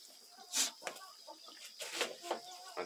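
Farmyard chickens cluck in a few short, scattered bursts, fairly close but not loud, with quiet gaps between calls and no talking.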